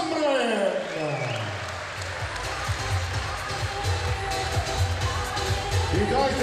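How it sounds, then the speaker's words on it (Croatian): Arena crowd applauding after a K1 kickboxing bout at a fight night, loud sustained clapping that swells and rolls throughout, with an announcer's voice over the crowd. "dajte još jednom pozdravimo velikim pljeskom ove izborene borce"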